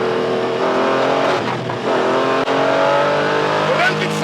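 A Porsche 718 Cayman GT4 engine roars loudly from inside the cabin on a race track, then downshifts into third gear with quick rev changes. A voice talks over the engine.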